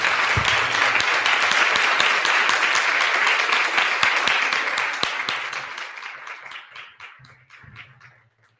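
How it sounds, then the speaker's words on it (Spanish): Audience applause at a Latin American social pedagogy congress, a dense sustained round of clapping from a large crowd that holds steady and then thins out and fades toward the end. "yo les pido un gran aplauso para Diego"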